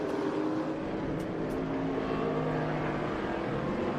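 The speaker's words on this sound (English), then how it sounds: "Biddle's out there in that Ford Mustang there, racing with that Porsche" Ford Mustang with a Boss 302 body racing a Porsche at an SVRA and Trans Am event in Austin, heard as a steady, loud engine roar that holds throughout with no talk.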